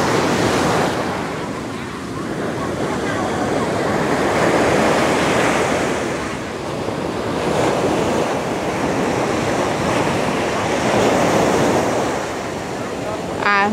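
Sea waves washing onto a beach at Phan Thiet, Vietnam, a loud continuous roar of surf swelling and easing in slow surges, with wind buffeting the microphone.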